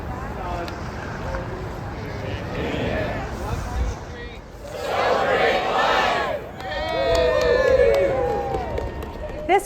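Crowd of students on a short pro-life march to Springfield City Hall, a broad murmur of many voices and footsteps with chanting swells, heard outdoors at moderate loudness.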